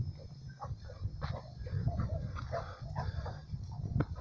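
A boxer dog barks in a series of short, fairly close barks over a steady low background hum.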